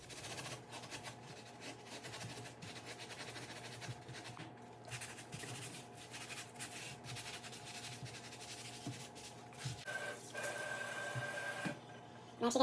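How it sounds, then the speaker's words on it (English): A cast iron pan is scrubbed with a brush and diluted Simple Green, a steady, close rasping scrub with rhythmic strokes that continue for several seconds before a brief louder clatter at the end. "I'm going to scrub this thing with Simple Green."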